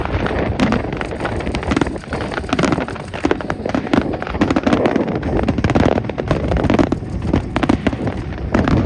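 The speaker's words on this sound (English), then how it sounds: "a stunning display there. Southern Cross Fireworks." A daytime fireworks display by Southern Cross Fireworks at the Avalon Airshow near Melbourne bursts loudly and continuously, dense crackles and bangs layered over wind noise with no talk.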